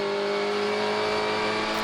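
Racing cars, including a BMW M4 Silhouette, roar along the straight at the Red Bull Ring during a Supercar Challenge race, a steady loud engine drone with strong harmonic whine and no talk.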